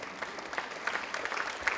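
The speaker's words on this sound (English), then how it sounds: "I didn't anticipate that applause." A TEDx audience claps after a talk on medicine, a fairly soft, steady patter of many hands through the short stretch, with no voices over it.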